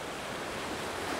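Waves rolling in at a seaside, a broad steady wash of surf noise with some wind, even and unbroken.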